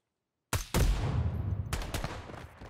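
Gunfire in the tactical shooter game Ground Branch: after a short silence, a sudden loud burst of rapid shots, then a sustained crackling volley with a few more sharp reports, close and harsh.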